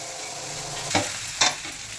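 Rice being stirred in a frying pan for lemon rice, a soft sizzle with two quick scraping stir strokes close up.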